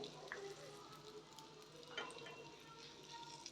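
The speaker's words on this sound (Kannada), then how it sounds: "ಇವಾಗ ಇದು ಇನ್ನೊಂದೆರಡು ನಿಮಿಷಗಳ ಕಾಲ ಲೋ ಫ್ಲೇಮ್ನಲ್ಲೇ ಫ್ರೈ ಆಗಬೇಕು" Paneer pieces frying on a tawa in oil and ghee over a low flame give a soft, steady sizzle with faint scattered crackles, close by and with no talk over it.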